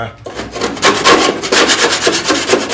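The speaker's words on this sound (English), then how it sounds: "I just grabbed my brand new razor sharp putty knife" A sharp putty knife scrapes rust from the front fender well of an abandoned 1970 Challenger, close, loud and rasping in quick repeated strokes.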